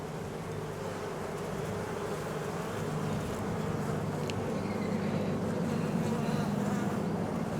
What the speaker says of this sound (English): the bees are very active. And we're going into hive number 30.